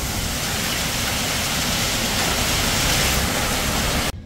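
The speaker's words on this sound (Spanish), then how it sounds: "Vino como una tormenta con muchos granizos, muchos granizos, mucho aire." Heavy hail driven by strong wind in a thunderstorm sweeping a Havana neighbourhood, a continuous loud hiss and rattle of hailstones that holds steady for about four seconds, then cuts off abruptly.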